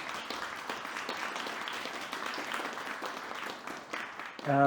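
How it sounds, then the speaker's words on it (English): A conference audience at an event on art and ecological care in Venice applauds in a continuous, even patter of many hands, fairly distant, ending with a brief tonal sound at the close. "An applause at this point."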